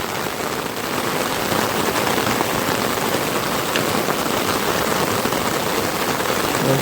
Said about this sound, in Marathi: बघू शकता जोराचा पाऊस आला